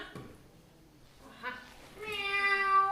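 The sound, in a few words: performer imitating a cat meowing in a puppet play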